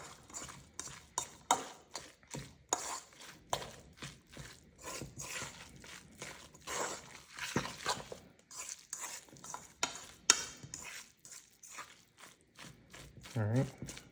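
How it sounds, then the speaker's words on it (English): Flour being stirred by hand into a salmon cake mixture, soft irregular scraping and tapping of a utensil against a bowl, close and fairly quiet, with a voice briefly audible near the end. "Okay, I'm gonna mix that in."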